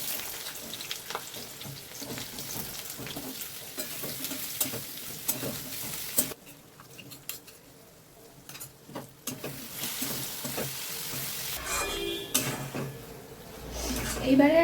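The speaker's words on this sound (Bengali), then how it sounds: "একদম পোস্তটা ভাজা ভাজা হওয়া অবধি এটাকে কষতে থাকতে হবে।" Poppy seed paste and onions fry in oil in a pan with a busy sizzle, scraped and stirred with clinks of a utensil against metal; the sizzle briefly quietens midway before the stirring picks up again.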